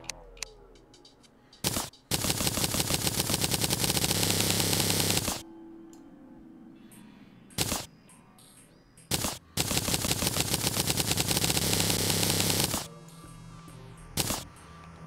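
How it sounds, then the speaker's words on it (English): Rapid, dense bursts of explosions from bombs blasting through demonite in Terraria, coming in two long rattling stretches of several seconds each with a few single sharp blasts between them, loud and alone. "Because bombs will cut through demonite."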